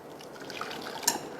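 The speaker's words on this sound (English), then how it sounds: "And we will pour it back to the pot." Lemon juice batter mixture is poured back into a cooking pot, giving a soft, steady liquid trickle and splashing at close range with a brief brighter splash near the end, fairly quiet and with no talking.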